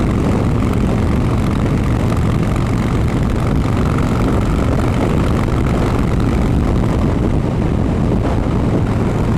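A Harley-Davidson Fatboy motorcycle on new tyres cruises in sixth gear at about 40, its engine a loud, steady low drone with heavy wind roar throughout.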